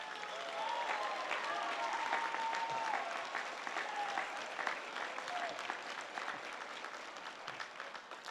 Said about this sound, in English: let's give your teachers and your parents a big round of applause